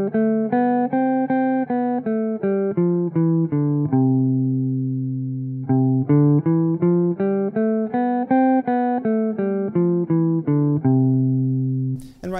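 Jazz guitar playing even straight eighth notes in a swing and bebop style line: a quick, evenly spaced stream of clean plucked notes, a short sustained pause midway, then the run resumes, close and alone.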